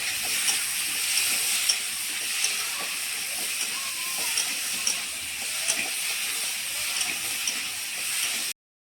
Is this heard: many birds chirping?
no